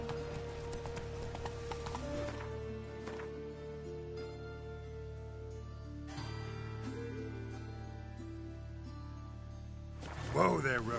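Roach, a horse in The Witcher 3, trots with a steady clip-clop of hooves alongside quiet in-game ambience, and a short snort or whinny comes near the end.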